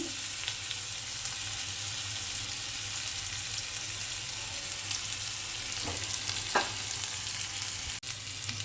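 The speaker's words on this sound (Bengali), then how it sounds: "মশলা কিন্তু মোটামুটি একটু ভাজতে হবে" Spice paste fries quietly in a pan, a low even sizzle with a couple of faint stirring scrapes toward the end and a brief click, all subdued and free of talk.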